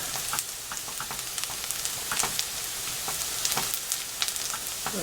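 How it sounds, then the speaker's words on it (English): Onions sizzle and crackle steadily in a frying pan as they caramelize, a close, continuous hiss with scattered sharp pops and spits, heard alone without voices. "my onions have started to caramelize"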